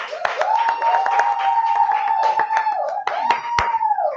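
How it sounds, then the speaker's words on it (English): A small audience at a live reading event claps, the quick hand claps steady and close under a long, sustained whistle or howl-like tone that carries through the whole round of applause. "Give him a round of applause."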